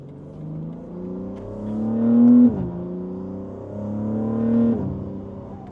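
A BMW M3 G80 accelerates hard through first gear, its engine note climbing in a steady, loud rising sweep. The sweep drops sharply at a shift and then climbs again, heard up close with no talking.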